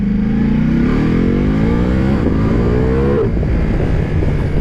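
A Ducati Multistrada V4 RS four-cylinder motorcycle engine runs loud and close, revving with rising pitch that climbs steadily, dips briefly, then climbs again before settling into a rough, throbbing drone.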